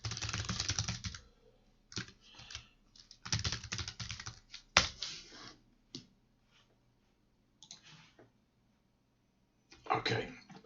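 An email address and password are typed on a computer keyboard in short bursts of rapid, close key clicks, separated by brief pauses and quiet gaps.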